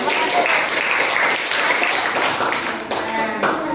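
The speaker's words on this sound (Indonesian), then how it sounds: "Nah, tepuk tangan." Classroom applause from students, a steady dense wash of clapping that fills the whole stretch at close range, with some voices mixed in.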